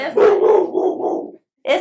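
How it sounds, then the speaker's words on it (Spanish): A dog barks loudly and close during a talk program, a gruff run of rough barks with a growly edge, then a brief pause before one more sharp bark. "Estos ladridos, Fiona es muy conocida en nuestro programa, suele salir, no siempre tiene estas reacciones tan fervorosas, pero escucha un ruido y se pone en guardia."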